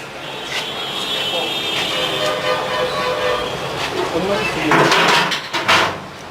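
Metal clatter and scraping from a pot being stirred in a cramped hotel kitchen, continuous clinking under loud overlapping voices and background bustle.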